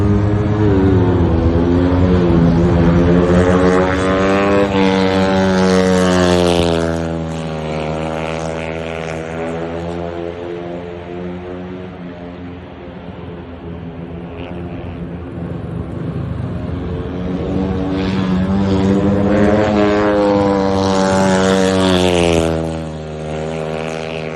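Speedway motorcycles race around their home track, their engines a loud, continuous whine that rises and falls in pitch as the bikes pass. No voices are heard.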